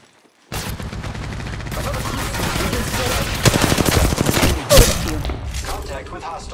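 Gunfire striking the player in Apex Legends Mobile, rapid loud bursts of shots rattling close by that grow denser midway, with a sharp impact near the end before fading out.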